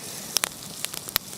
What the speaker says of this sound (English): Oh, sizzling in their juices.